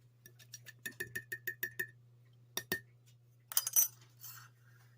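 Spoon clinking rapidly against a mug while stirring vanilla extract into chocolate mayonnaise mug cake batter, a quick run of about eight bright taps, then a couple more knocks and a brief scraping rattle, close and fairly quiet.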